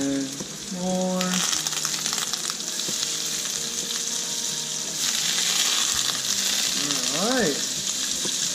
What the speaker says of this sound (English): frying the flounder. So put some butter in there